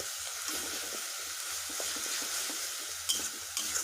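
Malai kofta gravy masala cooks in oil in a pan, a soft steady sizzle with light stirring scrapes and a couple of sharper clinks of a spoon against the pan, no talking.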